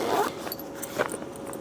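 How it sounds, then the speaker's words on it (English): An insulated bag is zipped around an Iceco JP40 Pro portable fridge, giving quick close zipper rasps with light scraping and handling noise. "you get that zipper on, zipper it all the way around"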